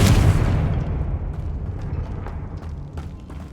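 A Confringo blasting spell explodes in Hogwarts Legacy, a loud booming burst at the start that rolls off into a long rumbling decay with faint crackles.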